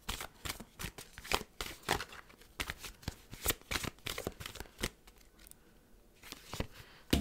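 Oracle cards being shuffled by hand in a quiet room, making a steady run of crisp, papery flicks and riffles with a few short pauses.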